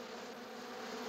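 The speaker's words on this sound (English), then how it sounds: "we wouldn't want the bees to get mad" A faint, steady buzz of bees droning continuously for a brief moment, with no voices.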